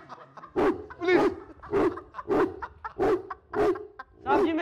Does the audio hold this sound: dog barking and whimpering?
yes